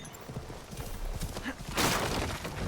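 Horse hooves clip-clop in a steady rhythm in Assassin's Creed Shadows, moving near a temple, with a brief whinny and a louder rustling burst near the end.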